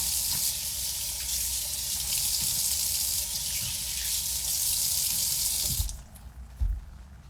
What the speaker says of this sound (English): Rinse your fish off in some cold water,